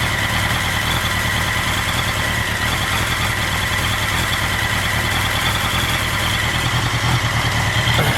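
A 1983 Honda Nighthawk 650cc motorcycle engine idles steadily for about eight seconds, a continuous close, fairly loud mechanical drone with no talking over it.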